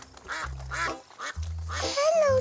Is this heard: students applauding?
no